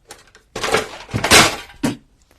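Metal scissors snag inside a tin can and clatter, giving several loud, close bursts of metallic rattling and scraping separated by short pauses, with a final sharp knock.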